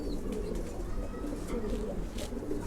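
Pigeons coo in a loft where newly paired birds are kept. A steady, dense murmur of overlapping low calls carries through the short stretch, with faint higher chirps on top.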